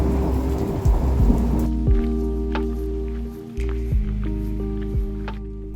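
Steady, cold rain patters close by on a small mountain chalet shelter in the Alps, with low thunder rumbles rolling underneath and a few sharper drips and taps standing out.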